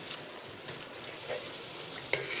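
Food fries gently in a pan, a soft, even sizzle at low level with a faint scrape or clink near the end.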